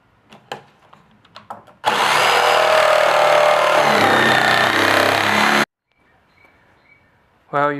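Power tool cutting holes through scrap wood for a PVC boot dryer, a loud steady whine lasting about four seconds, preceded by a few brief knocks and followed by a short squeal at the end.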